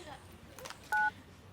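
One telephone keypad button beeps with a short, clear DTMF tone while navigating a customer service phone menu, with faint background noise around it.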